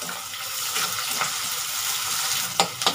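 Dried chillies frying in a pan for a Bengali-style cabbage dish, giving a steady close hiss with a few scrapes and clinks near the end.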